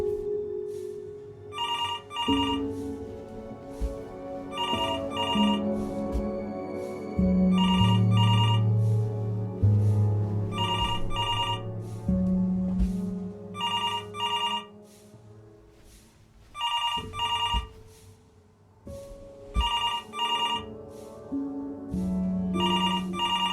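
A telephone in Before Your Eyes rings repeatedly in evenly spaced double bursts over a soft, low musical backdrop, clear and prominent, with no one talking.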